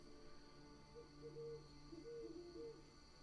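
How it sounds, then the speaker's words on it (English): An owl hoots several times in soft, tonal calls, grouped in short bursts over a faint, steady background hum, quiet and somewhat distant. "Oh my god, owl noises, so funny."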